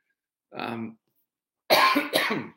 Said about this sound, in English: that's not a cough that means anything bad